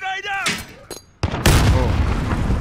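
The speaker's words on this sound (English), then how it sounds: "Grenade out!" A grenade blows up in Call of Duty: Modern Warfare, a loud, close boom with heavy rumbling debris that carries on after it. Game sounds and a shouting voice come before it.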